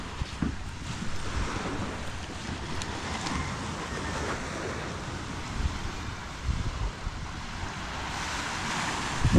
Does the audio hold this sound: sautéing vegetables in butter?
no